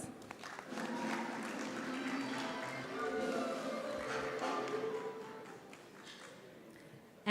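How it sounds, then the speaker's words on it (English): Audience clapping at a national journalism awards ceremony, a moderate wash of applause with a few shouts that swells midway, then thins out toward the end. "Round of applause."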